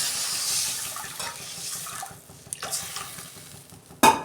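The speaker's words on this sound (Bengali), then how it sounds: "কষানো হয়ে গেছে, আমি জল দিচ্ছি" Water is poured into a pan of potol curry, a gurgling splash that fades into a soft simmer and is followed by a sharp clatter near the end.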